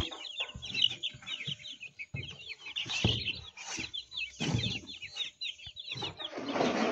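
Chickens on a home poultry farm cluck steadily and close by, with a busy, overlapping rhythm of short calls and occasional higher chirps that continues throughout without any talking.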